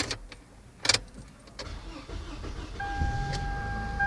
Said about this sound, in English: starting the car so that the battery will be preserved